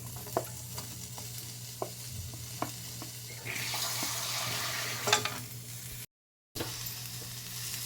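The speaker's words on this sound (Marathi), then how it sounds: "हे सर्व भाजून घ्यायचं आहे कढईमध्ये" Ginger, coriander, sesame, cumin and garlic dry-roast in a kadhai, with a soft steady sizzle, occasional spoon scrapes and clinks close by, and a brief burst of louder crackling partway through.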